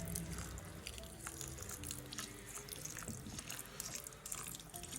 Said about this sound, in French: je vais arroser en fait là où je vais planter tout simplement